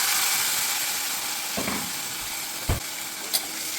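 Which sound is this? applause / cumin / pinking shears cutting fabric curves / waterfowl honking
cumin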